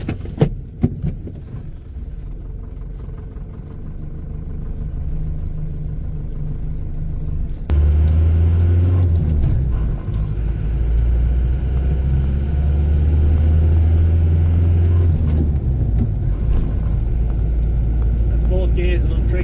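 An old car with warning lights on and a sticky gear linkage starts off, its engine rumbling low and loud close up, then pulling away and shifting, with a voice speaking over it.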